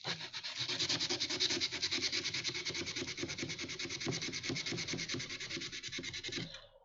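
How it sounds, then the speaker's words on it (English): A 3D-printed prop being rubbed with 220 grit sandpaper in quick, even back-and-forth strokes. The scratchy rasping runs close and continuous for several seconds, then stops abruptly, with no one speaking. "basically just sand"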